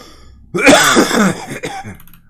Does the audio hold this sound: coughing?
yes